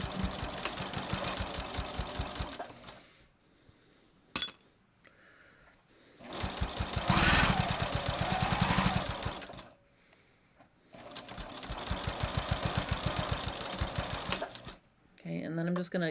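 A sewing machine stitches a quarter-inch seam in fleece for a hat, running in bursts with pauses between, its rapid mechanical chatter close and fairly loud, with a voice talking in the gaps.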